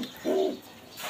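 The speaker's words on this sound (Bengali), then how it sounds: "এটা লালদম পেয়ার।" A Laldom pigeon in a loft gives a single soft coo of about a quarter second. The call sounds close and clear over quiet background hiss.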